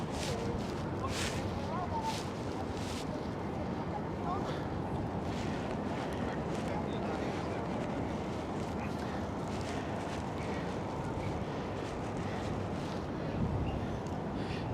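Strong wind buffets a nearby microphone on the Manhattan Bridge in New York City with a constant low roar throughout, occasional gusts rising, with faint voices barely audible underneath.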